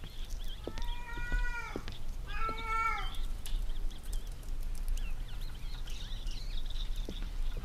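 Cat meows inside the video game Erie, two drawn-out calls close together near the start, then a quieter stretch of ambient game hum with faint background sounds.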